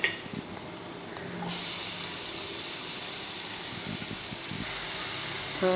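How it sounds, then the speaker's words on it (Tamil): Carrots dropped into hot oil in a pan set off a sudden loud, broad hiss that holds steady and strong after a quieter opening of faint kitchen noise. "இப்போ நம்ம கேரட் எடுத்து சேர்த்துக்கலாம்."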